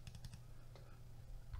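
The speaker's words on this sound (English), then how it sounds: "Double clicking out because I want to open the texture" Quick, quiet clicks of a computer mouse being double-clicked at a desk, a short burst at the start and a few more scattered later, over a low steady hum.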